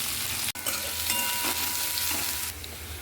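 Diced carrots sizzling in a little oil in a pan, a continuous close hissing fry with a brief interruption near the start and no talking.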